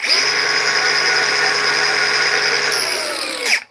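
Battery-powered grinder running at full speed, a loud, steady high-pitched whine close by that holds evenly, then spins down and cuts off at the end.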